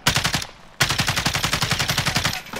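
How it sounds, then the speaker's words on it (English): In Call of Duty: Warzone, an AUG rifle fires in rapid tapped bursts: a short string of loud, crisp shots, a brief pause, then a longer, evenly paced run of shots, with no talking. "Practice my tap fire at least."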